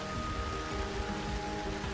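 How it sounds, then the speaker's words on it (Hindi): Steady rain falls on a mountain road during a cycling expedition from Bageshwar to Almora, a constant hiss with dense drops close by and no talk. "बारिश से बचने के लिए, कितनी सी बारिश"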